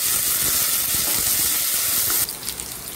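Crushed garlic, green chilies and curry leaves fry in a pan for an aloo capsicum dish, a loud dense sizzling hiss that drops abruptly near the end into softer crackling.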